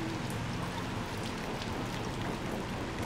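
Steady rain in the video game Little Nightmares II, a dense even hiss of falling drops and spatter with no break or change for the whole stretch, fairly soft and close.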